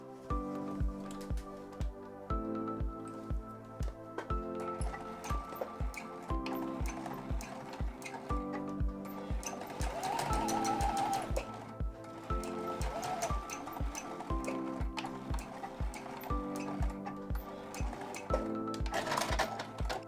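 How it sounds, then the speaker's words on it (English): Background music plays throughout, with a regular pulsing thump that could be a sewing machine stitching a seam on a mini tote bag; the stitching itself is not clearly separable from the music. "And then you just sew from seam to seam."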